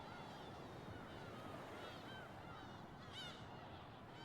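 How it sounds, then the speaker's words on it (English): Faint gull calls from the video game Pragmata drift over a steady, low ambient wash, with a slightly clearer cry near the end. "Same ass fucking seagull sound effect"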